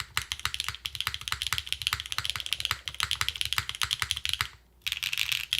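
Rapid, steady clacking of typing on a Neo 80cu custom mechanical keyboard with a copper bottom, close and crisp, with a brief pause near the end before the keystrokes resume.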